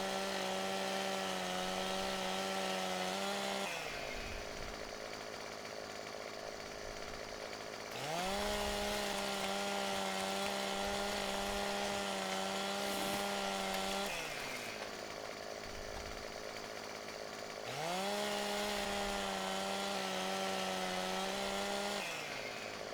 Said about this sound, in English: Geez, the chainsaw's loud.